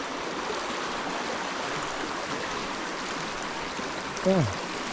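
Constant rushing of a flowing river in an African village, with a short voice breaking in near the end.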